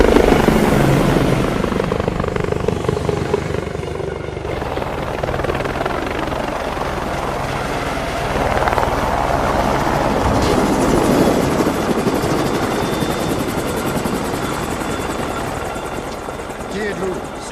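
An unmarked helicopter flies continuously, its rotor chop and engine roar loud and steady throughout, swelling slightly midway.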